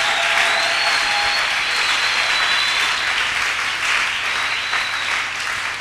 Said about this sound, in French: je vous prie d'acclamer très fort